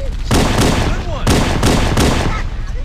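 A frag grenade goes off during a Halo: Combat Evolved firefight, heard as a string of loud, sharp bursts amid steady gunfire.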